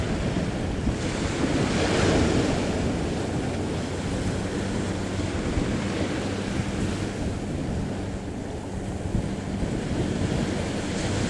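A storm at sea off Vietnam, heard from a fishing boat heading out: waves crash and surge without a break, with strong wind buffeting the microphone and a constant loud roar.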